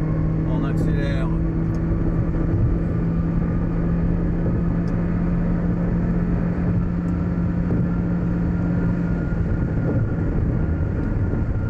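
A car accelerating onto a motorway, its engine and road noise forming a steady, loud rumble with a low hum that runs the whole time, and no talk over it.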